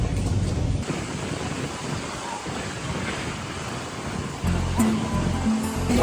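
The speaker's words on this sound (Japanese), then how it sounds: "Ah, 水の音いいね。" Running water at an outdoor restaurant terrace in Orange in southern France, a steady broad wash like a fountain, with a louder gush near the end and clinking glasses briefly.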